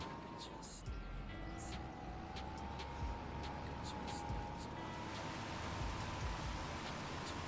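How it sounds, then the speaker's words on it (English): Steady rain hiss in a farming video game fills the scene with a low tractor engine drone and a sustained tone underneath, continuous and even throughout. "It's just started raining in-game."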